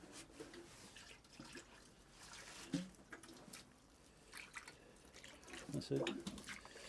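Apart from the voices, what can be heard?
fresh water poured into poultry self-feeder waterer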